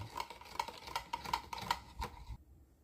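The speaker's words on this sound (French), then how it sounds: "Je vais bien mélanger les trois." Salt, fresh yeast and water stirred together in a bowl for a focaccia dough, a fairly quick run of light clinking taps of a utensil against the bowl, close and alone, stopping abruptly near the end.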